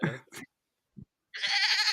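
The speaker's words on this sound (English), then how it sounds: "Even the goat sound hesitant." A short, wavering goat bleat rises clearly after a few brief vocal fragments and a moment of silence.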